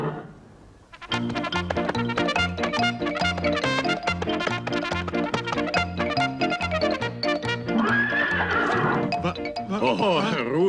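A human voice imitates a horse's neigh, a loud, sustained, wavering whinny that runs continuously for about ten seconds and rises into a shaky, trembling finish.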